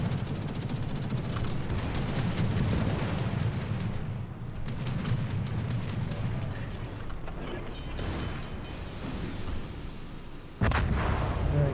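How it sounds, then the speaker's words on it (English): Battleship Nagato's main guns fire AP shells in World of Warships, a dense rumble of repeated booming salvos and crackling impacts, with a sharp loud blast near the end. "Nagato's actually now firing AP shells"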